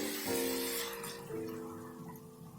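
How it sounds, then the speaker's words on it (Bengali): Water poured into a pan of paneer bhurji with cooked tomato, a short close splash and gurgle that fades within a couple of seconds, with no talking. "এবার এতে অ্যাড করব জল।"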